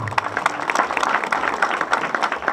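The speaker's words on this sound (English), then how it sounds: "the people get to appreciate and clap for you" An audience at an outdoor public gathering in Nyanza applauding, a steady, fairly loud patter of many hands clapping with faint crowd murmur.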